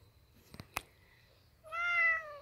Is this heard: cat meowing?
yes